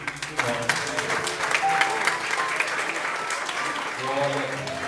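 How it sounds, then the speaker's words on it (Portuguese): A church congregation bursts into loud, sustained applause at a Sunday celebration service, with voices and some sung or spoken tones running over the clapping throughout. "Aplauda e glorifique o nome."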